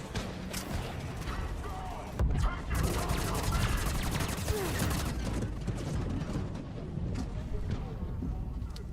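Rapid turret gunfire in a video game, dense overlapping bursts that keep going without a break, loud and close, with a voice talking underneath.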